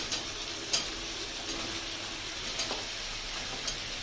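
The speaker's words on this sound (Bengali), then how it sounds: "এবারে দিয়ে দেবো কেটে রাখা ঝিঙেগুলো" Chopped ridge gourd sizzles in a hot pan while being cooked into a Bengali ridge gourd dal; a steady, close frying hiss runs throughout, with a few soft stirring clicks and no talking.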